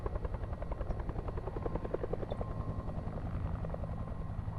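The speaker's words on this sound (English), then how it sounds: "Sounds like a chopper." A helicopter in the horror adventure game Alpha Polaris thrums nearby with a steady, rapid rotor chop that holds at an even level throughout, with no talking over it.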